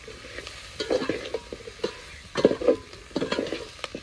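Mixed vegetables for bhogichi bhaji stirred and sautéed in a pan, with irregular scraping and clattering strokes over a continuous sizzle, close and moderately loud.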